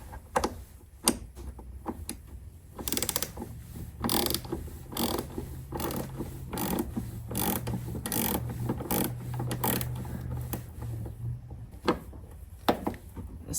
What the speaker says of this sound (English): we're going to remove the negative battery